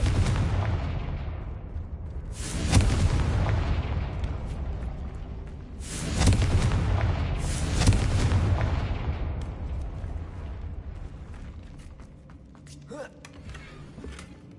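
In a video game, a Confringo blasting spell sets off booming explosions, two big blasts with rumbling tails and smaller bursts after, loud and close.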